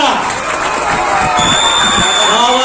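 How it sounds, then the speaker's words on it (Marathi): Crowd at a Dahi Handi festival clapping and cheering as a human pyramid is built, with dense applause and excited shouts mixed with children's voices and whistles, loud and close throughout. "जरा जोरदार टाळ्या उजाव द्या"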